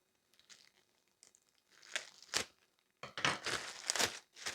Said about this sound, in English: I think I'll use scissors for that.